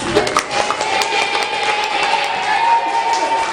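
A secondary-school class applauds a student group, a steady, loud wash of clapping and crowd noise lasting several seconds in a room.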